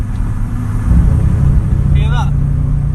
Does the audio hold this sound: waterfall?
no